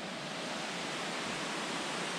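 Princess Falls, a waterfall above a creek, gives a steady, dense rush of falling water that fills the whole short stretch evenly, with no voices.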